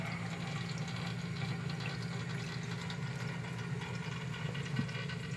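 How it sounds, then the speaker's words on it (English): Faint, steady rush of water discharging from a sump pump pipe over a low mechanical hum, continuous without pauses. "Water's going down, the flapper went up, the water's coming out and out."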